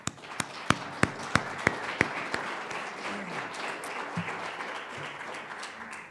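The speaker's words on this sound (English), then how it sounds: "let's begin by giving them a round of applause" An audience at a District 32 primary debate gives a fairly thin round of applause, with a few sharp individual claps up front that quickly soften into a light, scattered patter.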